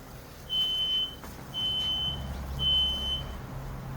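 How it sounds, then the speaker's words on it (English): A home smoke alarm chirps three times in steady, evenly spaced high-pitched beeps, each lasting about half a second, over a low background hum from a powerful wok burner nearby. "That's my smoke alarm."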